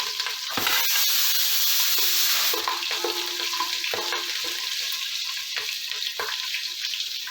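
Garlic, cumin seeds and green chilies sizzle steadily in hot oil in a pan for home-style dal makhani, a dense continuous hiss broken by occasional scraping stirs.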